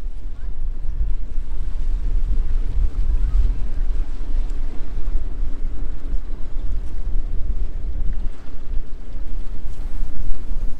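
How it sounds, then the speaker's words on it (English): Strong wind buffets the microphone in a continuous low roar near a small harbour on Texel, with a faint steady hum underneath. "It's more windy than it was yesterday"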